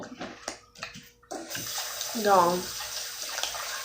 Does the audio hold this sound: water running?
yes